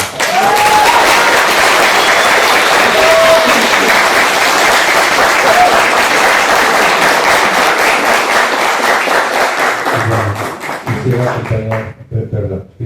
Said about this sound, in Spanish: Les pido un fuerte aplauso para